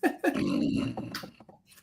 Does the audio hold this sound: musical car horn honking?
no